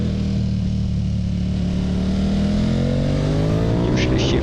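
A sport motorcycle revs loudly on a race track, its engine note climbing steadily in pitch as it accelerates through a gear, close and continuous.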